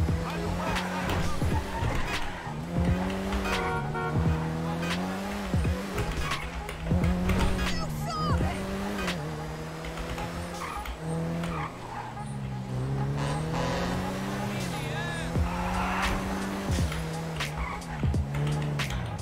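A BMW M5 driven through the city in GTA 5, its engine droning steadily with rising and falling revs and occasional tire squeal, continuous and close throughout.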